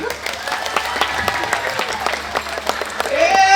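Audience applause greets Balinese artists from the Tengkulung customary village at a drama gong performance, with loud, close individual claps over a crowd clapping and voices talking, swelling louder at the end.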